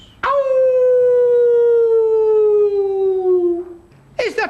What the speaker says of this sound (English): A dog howls in the distance.